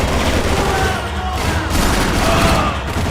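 Dense bursts of rapid gunfire in the video game Max Payne 3 crackle continuously, loud and close, with a steady wash of noise underneath and no voices.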